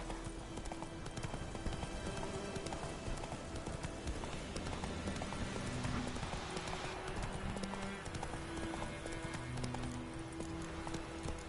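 Horse hooves clip-clopping at a steady trot in The Witcher 3: Wild Hunt, an even rhythmic beat running throughout over a soft game soundscape with faint low tones.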